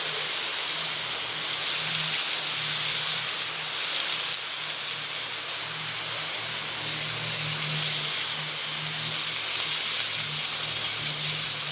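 Bacon sizzling in a pan over a campfire in the woods, a dense, loud, continuous hiss with a low humming undertone, steady throughout with no voices.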